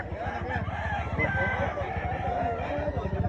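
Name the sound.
roosters crowing at a gamefowl expo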